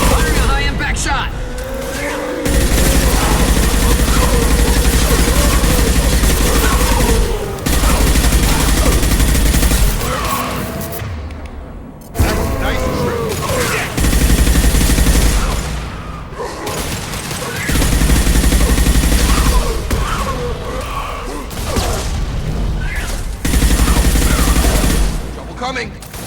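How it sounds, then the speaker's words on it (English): Gunfire and high-impact shots in the Mass Effect 2 game, a loud, dense fusillade of rapid shots and heavy impacts in long sustained bursts, broken by short pauses, with voices shouting over the combat. "Firing a high-impact shot!"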